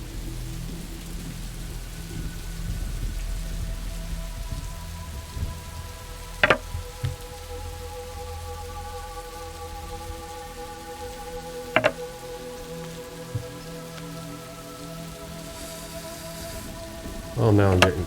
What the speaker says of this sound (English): Well, it is night and raining.